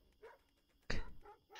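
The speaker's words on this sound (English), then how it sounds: "There's dogs barking." Dogs bark in a spooky video game, a soft yip followed by one sharp, loud bark and another rising bark, near and alone with no talk.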